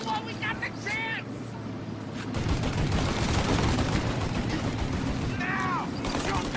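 Gunfire erupts in the video game Mafia: Definitive Edition, a rapid burst of shots over a car's engine, with characters shouting before and during the volley.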